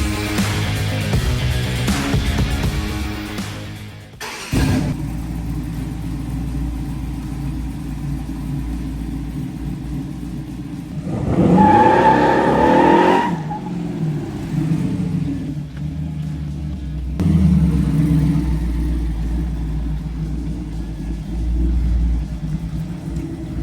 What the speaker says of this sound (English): We've got the Ford Motorsport 340 horsepower crate engine,